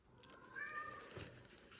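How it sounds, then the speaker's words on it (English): A pet cat meows once indoors, a short, fairly faint cry rising and falling over a quiet room background. "Oh, my cats are spazzing out."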